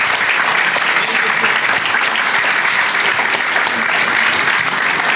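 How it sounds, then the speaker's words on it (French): A large conference audience in Créteil applauds Bernard-Henri Lévy at the close of his talk, loud dense clapping sustained evenly throughout, with faint crowd voices beneath. "Merci infiniment, on l'applaudit."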